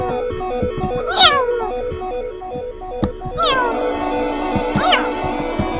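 A pet cat meows several times, sharp drawn-out calls rising over a steady electronic game soundtrack, close to the microphone.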